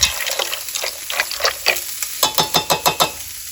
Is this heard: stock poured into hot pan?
yes